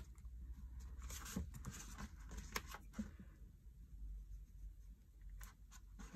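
Pen marking on a hanging file folder, soft scratchy strokes in short bursts, close and faint, no talking.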